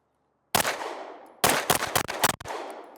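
Five handgun shots fired at a 10-yard target on a timed drill, loud and close: one opening crack, a pause, then a quick irregular burst of reports with ringing decay.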